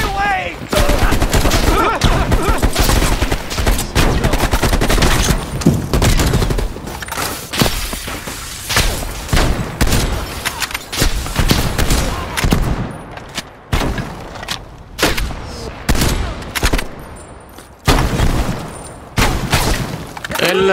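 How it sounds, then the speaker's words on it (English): Continuous gunfire from a Call of Duty Black Ops Cold War firefight, with dense automatic bursts and sharp shots overlapping loudly for the whole stretch, while voices shout in the background. "Please, they're shooting at us."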